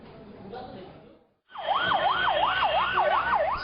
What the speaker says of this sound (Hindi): सड़क पर एम्बुलेंस के सायरन आपने कई बार सुने होंगे।